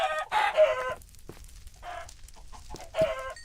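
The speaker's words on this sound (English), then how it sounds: "punch the chicken." Minecraft chicken sounds: several short clucking calls in quick bursts with pauses and soft thumps between, clear and close with no talk.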